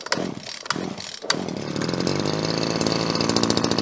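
A petrol strimmer engine sputters through a few uneven firings, then catches and settles into a steady, buzzing run close by.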